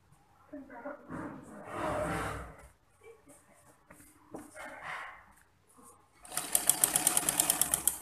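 A sewing machine runs a long basting stitch down a pleated back skirt, a steady rapid whir rising loud near the end, with someone speaking over the earlier stretches.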